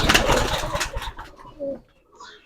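Giribaz pigeons on a large farm in Rajshahi coo softly and briefly after a stretch of loud, close rustling and handling noise.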